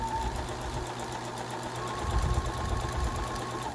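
A sewing machine stitches a fabric mask, its rapid, even mechanical whir running steadily and close up without pause, growing slightly louder partway through, with no talking.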